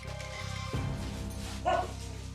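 Several dogs bark and yip excitedly in an indoor home, a mix of sharp barks and whines over a steady background hum, with one louder bark near the end.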